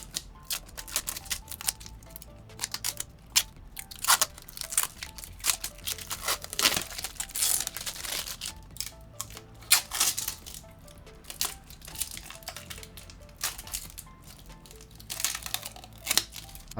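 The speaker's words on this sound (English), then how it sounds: "Let's go ahead and unveil all of this plastic, starting with one of the corners here." Plastic film is peeled off an ASUS TUF Gaming 4080 Super OC Edition graphics card, giving close crinkling and crackling with sharp tearing snaps in irregular bursts, and no voices.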